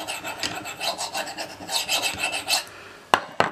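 A knife edge is sharpened on a musat honing steel with repeated close rasping strokes in an uneven rhythm, ending in two sharp metallic scrapes.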